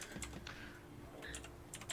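A cat walks across a computer keyboard, setting off scattered bursts of key clicks and clacks at close range, loud and irregular, with no voices over it.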